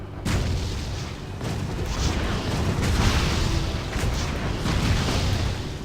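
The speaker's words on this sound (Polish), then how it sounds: "Ale wybuchają." Booming explosions from the action game Torchlight 2 burst in quick succession, dense low rumbling blasts that overlap into a continuous roar.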